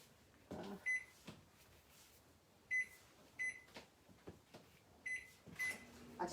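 A kitchen microwave is set to soften white chocolate for biscotti, with several short electronic beeps from button presses and soft clunks over a quiet hum, near and without talk.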